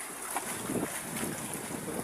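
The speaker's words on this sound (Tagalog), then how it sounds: "Sobrang lakas ang hangin dito sa amin." Strong wind buffeting the microphone in a continuous roar, with rushing water or surf blended underneath, during flooding with floating wood.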